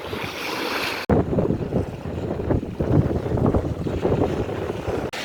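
Strong wind roars across the microphone with waves washing underneath, a steady, loud outdoor rush with no voices.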